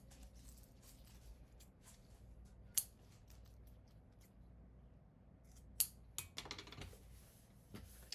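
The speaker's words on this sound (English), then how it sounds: "Now I'm just going to cut this off to meet the zipper" Scissors cutting through a plastic dish drying mat, a few sharp snips and crisp clicks scattered over quiet background, close and fairly faint.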